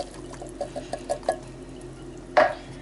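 Spoon stirring a very full pot of chorizo, kale and cannellini bean soup, a run of soft rhythmic scrapes and clinks followed by one louder clatter near the end, with no talk.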